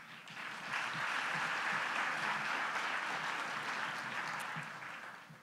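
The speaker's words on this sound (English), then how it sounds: "Let's clap our hands." At a business awards event, a large audience claps together in a steady, even wash of applause, fairly soft and distant, that swells quickly and then eases toward the end.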